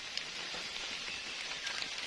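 Rain falls in a forest during mushroom gathering, a dense constant patter of drops on leaves and surfaces, fairly close and even throughout, with no talk.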